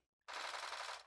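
Automatic gunfire from a weapon in the video game Bullet Force, a single burst that starts abruptly after a short silence and sounds loud and close.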